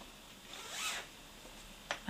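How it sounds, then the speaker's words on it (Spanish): Zipper on a jumpsuit pulled open in one quick close rasp, then a brief faint second zip tug near the end, with no talking. "Aquí tiene una cremallera."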